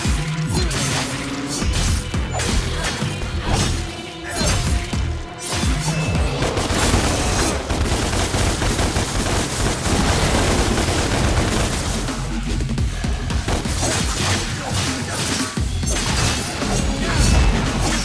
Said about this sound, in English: Now use your gun! Shoot him down!